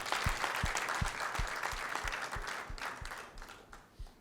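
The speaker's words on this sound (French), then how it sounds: "Nous allons encore demander une salve d'applaudissements pour ce film fantastique." An audience at a film club screening of Jean-Pierre Bekolo's "Les saignantes" claps for the film, a fairly close round of applause with distinct low thumps from nearby hands that slowly tapers off.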